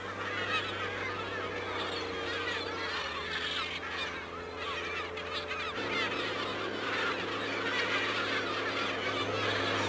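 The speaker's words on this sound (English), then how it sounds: "quite quickly the birds start to gather" A large flock of birds gathers at tipped rubbish bait beside a set net in the countryside, a dense, continuous mass of honking and squawking calls over a steady low engine hum.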